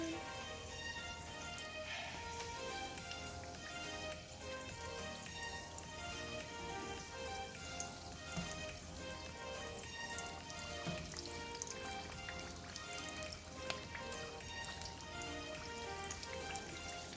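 Potato samosas fry in oil on a low flame with a steady, soft crackling sizzle that runs unbroken and evenly throughout, with scattered tiny pops.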